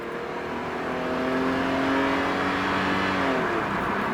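A Nissan Skyline set up with nitrous revs hard past 5,000 rpm with no rev limiter while spinning its wheels. The engine howls loud and close, climbing and holding for about four seconds, with no talking.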